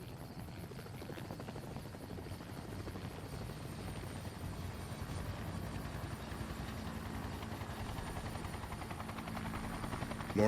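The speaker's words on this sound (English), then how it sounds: "Looks like his vertibird is arriving early." A vertibird aircraft in Fallout New Vegas approaches with a steady, low throbbing rotor beat and engine hum, fairly faint but constant, growing slightly louder throughout with no voices.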